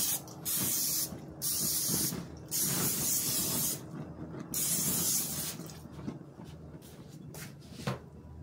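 Non-stick cooking spray hisses out in three long bursts followed by a few shorter ones, close and clear, before grilling tilapia and Pacific salmon, with no talk.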